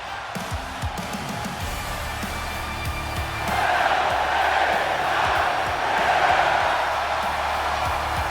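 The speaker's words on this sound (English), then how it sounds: "For the roar of the crowd tells you all you need to know." A roaring arena crowd in a WWE wrestling video game swells loudly and steadily, growing louder partway through with sustained cheering and no clear speech.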